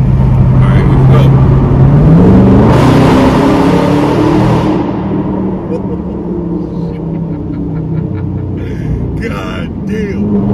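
A 2021 Dodge Charger Scat Pack with a mid-muffler delete roars hard under acceleration inside a tunnel, loud booming exhaust that drops back to a rumble, with brief voices near the end.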